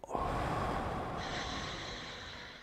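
One long, deliberate breath drawn in and slowly released during a guided breathing exercise, close and steady, fading gradually with no speech.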